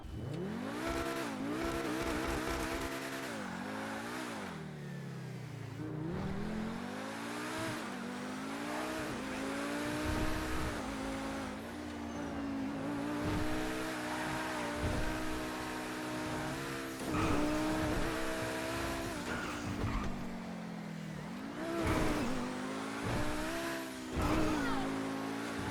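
A Pegassi Tempesta supercar in GTA Online revs hard again and again, its engine pitch climbing and falling in sweeping rises. The engine stays loud and close the whole time, with some tire noise and faint talk underneath.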